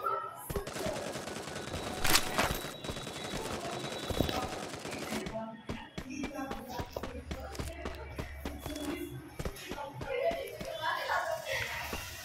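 Gunfire from an MP40 in the Free Fire battle royale game, with rapid automatic bursts and sharp single shots, some near and loud, others more distant, mixed with footsteps and someone talking over the action.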